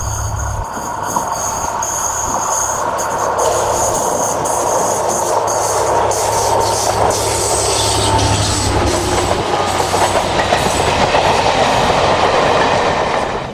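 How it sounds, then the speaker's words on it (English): A heavy British Class 67 diesel locomotive rumbles past close by, hauling a train with a steady roar of engine and wheels clattering on the rails. "67009 heads the train at the same spot"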